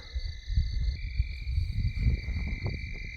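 Steady high trilling calls of male red-spotted toads ring continuously from a distant pond, with low rustling and handling noise close by.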